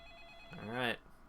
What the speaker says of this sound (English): Alright, pick up the phone.